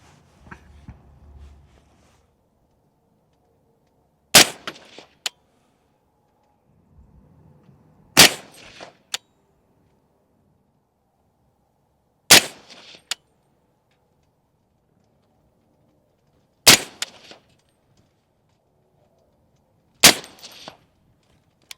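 Five sharp, loud rifle shots from a Springfield Saint Victor AR-10 in .308, spaced about four seconds apart, each followed by a brief echo or metallic ping, with near silence and faint handling noise between them.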